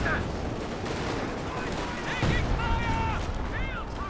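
Scattered gunfire and distant booms from a WWII battle game involving anti-tank guns and a Panzer IV, layered over a busy battlefield din, with a voice talking throughout.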